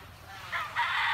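A rooster among backyard pet chickens crows in a hoarse, drawn-out call over faint background noise, rising partway through and holding to the end.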